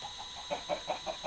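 A chicken in the Minecraft video game clucks in a quick run of soft, evenly spaced notes over a steady, buzzing game background, with no talking.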